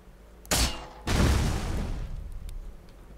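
Two sharp bursts of video game gunfire in Miscreated crack out close together, the second followed by a rumbling tail that fades slowly under background noise.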